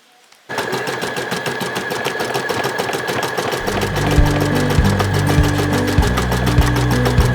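An embroidery machine stitches a name in script with gold thread on a child's backpack, running as a loud, fast, steady mechanical rattle that starts abruptly and thickens partway through with a deeper rhythmic thumping.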